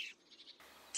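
Wild birds such as chaffinch and robin calling in the Côtes d'Armor countryside, a few quiet high chirps and short song phrases, faint and somewhat distant, with no talking.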